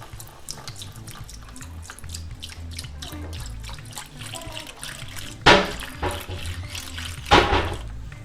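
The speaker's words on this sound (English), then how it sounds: "and then we're adding milk." Milk pours into a pan of cooking chicken with a soft liquid trickle, punctuated by two louder splashing bursts, close and without talk.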